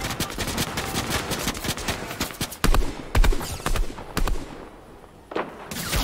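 Gunfire in a Fortnite match, with a string of sharp shots and bursts of varying loudness, a few standing out louder near the middle before a brief quieter gap and a final shot.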